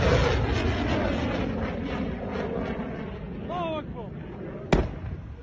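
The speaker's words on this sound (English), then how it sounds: "They're shooting a missile right at the other missile and knocking it out of the air, destroying it" Patriot air defense missiles intercept incoming Iranian missiles above Kuwait: a steady distant rumble with a loud whoosh, a rising whine, and a sharp crack near the end, under excited voices.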